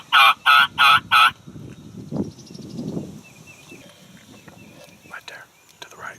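A hunter sounds a custom wild turkey call in Kentucky woods, four quick loud gobble bursts up front, followed by quieter rustling and murmured whispering.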